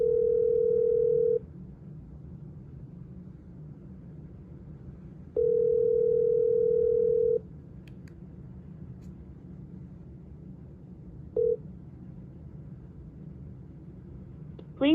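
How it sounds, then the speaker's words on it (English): A phone call rings out through an iHip Jambar wireless speaker, two long steady ringback tones several seconds apart with a brief third blip, loud and clear over low room hum, no talking. "So it does ring from the phone, like they said. It comes through the speaker."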